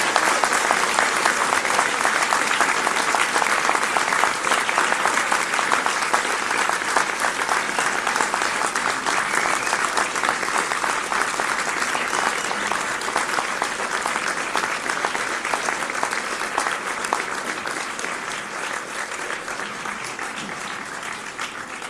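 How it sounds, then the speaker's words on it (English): Sustained applause from a large graduation ceremony audience, steady and dense for the whole stretch, tapering slightly toward the end with no speech over it. "So up, round, and a really good applause for all those who are here."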